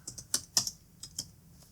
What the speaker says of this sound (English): See if I can type it in.